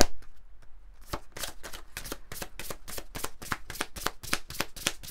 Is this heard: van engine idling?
no